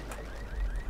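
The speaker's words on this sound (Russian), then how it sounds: "А чё здесь-то за сигнализация сработала?" A car alarm goes off in the zombie survival video game Dying Light, its wailing tone sweeping upward over and over, held steady and moderately loud over a low background rumble.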